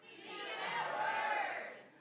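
At a spoken word night in a cafe, an audience shouts its call-and-response reply together, one loud sustained crowd shout that swells and then fades over about two seconds.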